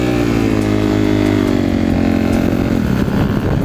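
A 125cc motorcycle revs loud and close with its rear wheel slipping on grass, the engine holding a steady, throaty drone that sags slightly toward the end.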